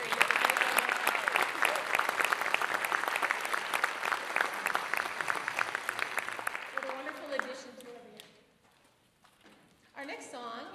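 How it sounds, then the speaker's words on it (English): An audience at a school band concert gives fifth-grade band players a big round of applause, with steady, full clapping that gradually thins and fades before a voice begins speaking. "Let's give those four fifth graders a big round of applause."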